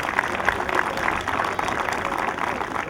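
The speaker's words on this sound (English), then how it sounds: "let's give him a round of applause" Loud, continuous applause from an audience at an LBA 2014 opening event, many hands clapping in a dense, even patter close by, with faint voices mixed in.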